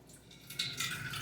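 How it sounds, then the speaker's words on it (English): Excess water is poured off a pot of cooking grits, giving a steady, soft splashing hiss that swells slightly partway through, with no talk. "right now I'm going to just pour this out"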